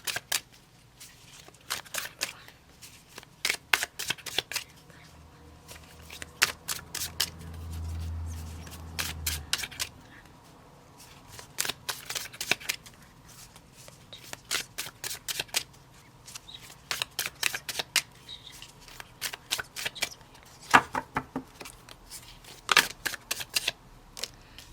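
Tarot cards being shuffled by hand in a quiet room, many rapid riffling flutters and soft slaps in irregular bursts, close and clear, with a brief low hum midway and no voices.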